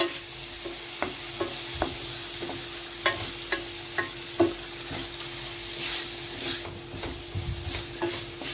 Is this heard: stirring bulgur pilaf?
yes